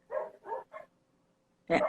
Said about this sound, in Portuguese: Eu tô com um som atrás, né, dos cachorros